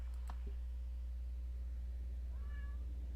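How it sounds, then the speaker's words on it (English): A single short, thin cat meow from the video game Kentucky Route Zero, Part 5, sounds faintly over a steady electronic hum, after a couple of brief clicks. "That's the kitty. Record the kitty."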